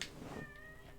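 A pet cat gives one clear, drawn-out meow up close, alone with no talking.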